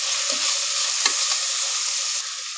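Mixed vegetables and fresh green peas frying in oil for pulao, a steady close hiss of sizzling with a couple of soft stirring scrapes.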